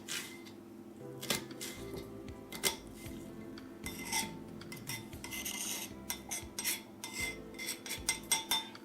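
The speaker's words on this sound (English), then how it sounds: "So I'm just going to chop that." Knife chopping white onion on a board in a home kitchen, sharp irregular taps and scrapes spread across the clip, close and fairly quiet with a steady low background hum.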